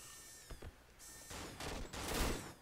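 Rifle burst fire in the co-op horror game Cry of Fear, a few quick clusters of sharp gunshots in rapid succession, moderately loud over a faint ambient background, no talking.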